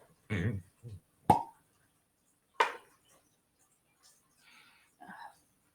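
Bottle of Empress 1908 gin being opened, a single crisp pop of the cork close up, set among quiet spoken remarks and soft handling noises.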